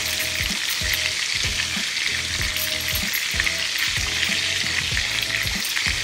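Lamb chops with garlic and rosemary sizzle loudly in a hot pan as they are basted, with a busy crackling fry and repeated scraping, spooning strokes, close and without speech.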